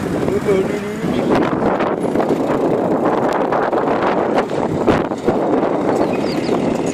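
Strong outdoor wind buffets the microphone in a steady, rumbling roar that carries on without pause for the whole stretch.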